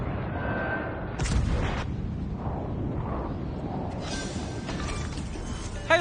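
A warship's front gun fires in World of Warships Legends, a loud booming blast with a heavy rumbling tail, followed by a second burst and ongoing battle noise beneath a player's voice.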